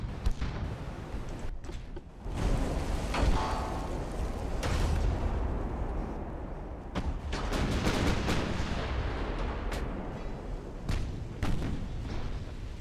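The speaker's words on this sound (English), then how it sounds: "Agincourt is going to light me up with these 15-inch guns" 15-inch naval guns fire repeatedly in Ultimate Admiral: Dreadnoughts, heavy booming salvos and rumbling blasts overlapping in a dense, loud barrage of irregular shots with no talk.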